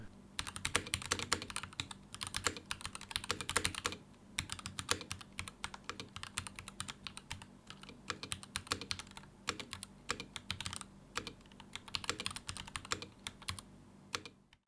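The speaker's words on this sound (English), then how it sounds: "the sound of the keystrokes right out of the box on this keyboard are fantastic" Rapid, crisp clacking of keys on a FiiO KB3 mechanical keyboard, new out of the box, typed continuously in bursts close up, with no talking.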